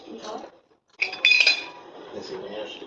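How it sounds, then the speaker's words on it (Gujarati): A spoon stirs millet flour with fenugreek and spices in a bowl, giving clinking and scraping against the bowl in irregular bursts, close and fairly loud. "હવે આપણે બધું મિક્સ કરી દઈશું"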